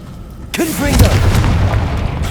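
Hogwarts Legacy Confringo blasting spell detonating, one abrupt heavy boom that rolls on into a sustained low rumble and crackle, with a spoken spell call layered over the impact.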